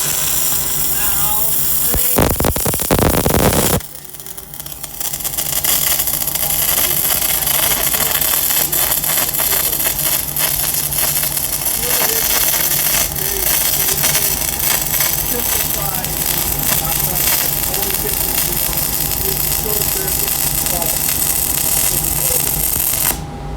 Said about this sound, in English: So we're gonna run this fillet weld